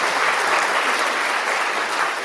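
Audience applause at a pharmacy lecture at a university hall, a steady, dense wash of clapping from many hands that holds evenly throughout without a break or any voice over it.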